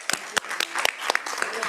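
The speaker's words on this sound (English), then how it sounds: "So this is really, we applaud you, Mari-Chris." Applause from the audience at a Milpitas city council meeting: a scattering of distinct, fairly close hand claps repeating irregularly over a soft wash of crowd noise, with some murmuring.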